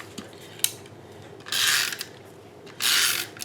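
A Stampin' Up Snail adhesive tape runner is pulled across paper in two smooth, whirring strokes, with a few small clicks before them. The sound is close and clear, and no one speaks.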